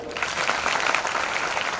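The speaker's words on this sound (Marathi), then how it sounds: "नक्कीच एकदा टाळ्या होऊन जाऊया" Audience at a district-level science exhibition prize distribution breaks into steady, dense clapping that fills the whole moment at an even, sustained loudness, with no voices standing out.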